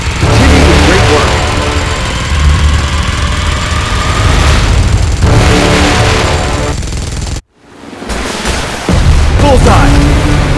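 Heavy weapons fire in a PUBG Mobile Godzilla and Kong versus Mechagodzilla event, a loud, dense barrage of booms and rumbling blasts with a brief drop to near silence before the roar resumes.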